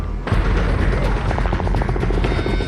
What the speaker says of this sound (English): a daring helicopter rescue begins